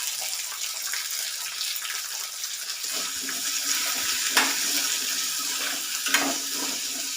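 Onions and salt sizzle in a pan for a curry, a steady hissing, frying sound with a few sharper crackles, close and moderately loud, with no talking.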